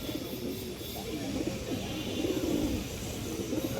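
A male and female pair of large-headed pigeons at a farm for sale coo softly, repeated low rolling calls under steady background noise.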